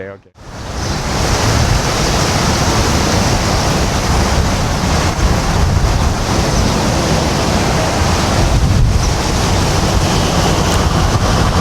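Powerful ocean surf at Hanalei Bay on Kauai roars steadily and loudly for the whole stretch, a dense wash of breaking waves with wind buffeting the microphone and a brief swell of crashing water near the end.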